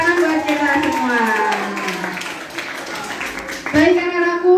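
Students in a junior high school hall clap for a legal awareness session on the electronic information law. A scattered patter of hands sits under a speaking voice that carries over most of the moment.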